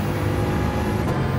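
Dodge Tomahawk supercar in Gran Turismo 7, a steady loud engine drone with broad road and wind roar holding constant throughout, no voices over it.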